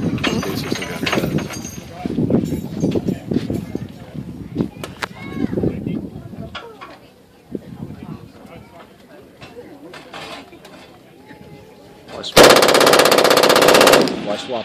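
A .50 caliber machine gun fires at a family day demo shoot with HMLA 267, a long, loud, rapid burst close by near the end. Before it come scattered distant shots and people talking.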